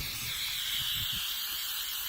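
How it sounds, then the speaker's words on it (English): A can of clear spray being sprayed around caulked corners in a single steady, continuous hiss, close and fairly loud, lasting about two seconds with no voices. "It looks like I'm just spraying WD-40 on there."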